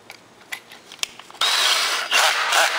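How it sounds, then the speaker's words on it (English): Power drill spinning a chamfer taper deburring bit held against pliers, a few light taps and clicks first, then a loud steady whirring grind that continues to the end. "I'm going to stick it in a drill and hold a pair of pliers"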